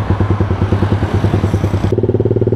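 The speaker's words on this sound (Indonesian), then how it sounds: "Jadi di video kali ini kita bakal naik ride nih pakai MX." A Yamaha Jupiter MX motorcycle engine rumbles loud and close, with a steady pulsing beat that shifts to a quicker, rougher rhythm partway through. The rider is heading from Ciawi toward Bogor after refuelling.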